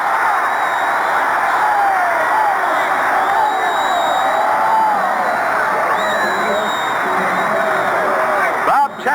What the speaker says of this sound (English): He's knocked down on the 22, and listen to this crowd.